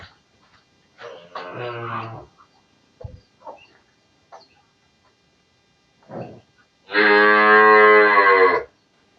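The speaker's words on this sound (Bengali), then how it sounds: "এটি হলো 13 নাম্বার গাভী" A pregnant dairy cow moos close by, a short low call early on and then a long loud drawn-out moo near the end, separated by quiet stretches with a few small knocks.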